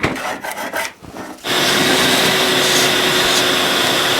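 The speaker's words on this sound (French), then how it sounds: "Je file l'aspirateur ici." A vacuum cleaner starts up abruptly and runs steadily and loudly while cleaning a Peugeot 205 car, after a few quieter rubbing and shuffling sounds.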